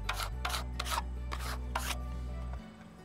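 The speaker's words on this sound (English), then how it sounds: "Just squeegee the whole thing one last time." A squeegee is pushed firmly across a vinyl decal during installation in a series of five rubbing, scraping strokes, close and fairly loud, over a steady low hum that drops away near the end.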